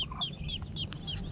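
Mother hen and newly hatched chicks being moved to a new coop: repeated high chick peeps over low, steady clucking, close by, with no talking.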